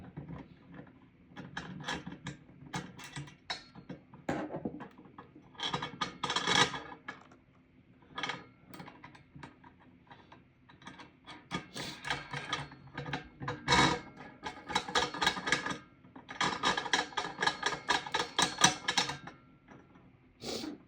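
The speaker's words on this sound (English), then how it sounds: "So I have to take my screwdriver and just undo this again." A screwdriver backs bolts out of a Winwing joystick desk mount, giving bursts of dense metallic ratcheting clicks separated by short pauses, close and fairly loud with no voices.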